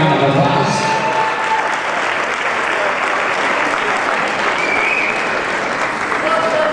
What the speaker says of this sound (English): give you semi-finalists a great round of applause